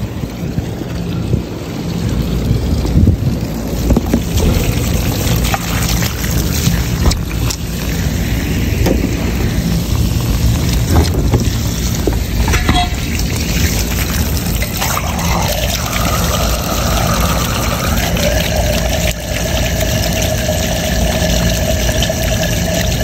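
Water flushes through the condensate drain T-trap of a Lennox air conditioning unit, a steady loud rushing wash lasting throughout, with a gurgling shift near the end and no talk.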